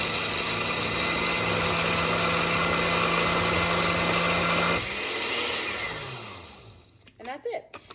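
A blender runs continuously, loud and close, whirring through fruit smoothie with ice, then winds down and stops, followed by faint rattles at the end.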